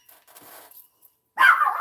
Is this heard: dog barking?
yes